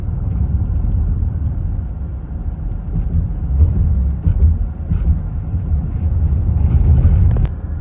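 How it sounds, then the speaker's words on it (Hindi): A car drives slowly along a winding, fog-covered road in the Blue Mountains of Australia, its engine a steady low rumble with road noise running throughout at close range, with no voices. "और स्लो ही गाड़ी यहाँ पे चलानी पड़ेगी"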